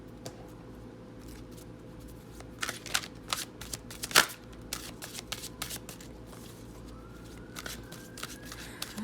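Native Spirit Oracle cards being shuffled: a run of quick papery riffles and flicks, close and fairly soft, with one sharper snap midway over a low steady hum, and no talking.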